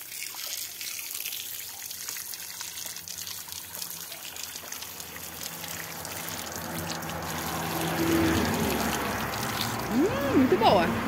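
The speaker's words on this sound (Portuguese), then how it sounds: "bebeu água da bica, vou tomar também." Water runs from an outdoor spout, a steady trickling pour that swells louder in the last few seconds, with a voice talking over the flow.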